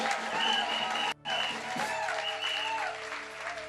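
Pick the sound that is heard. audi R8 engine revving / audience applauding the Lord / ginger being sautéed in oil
audience applauding the Lord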